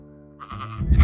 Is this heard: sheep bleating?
yes